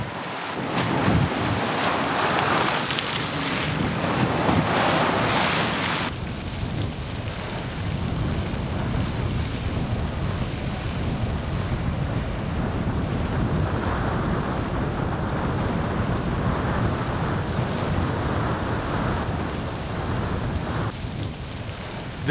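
Old Faithful geyser in Yellowstone National Park erupts with a dense, roaring rush of water and steam, loud and continuous, swelling at first and then settling into a steady wide hiss.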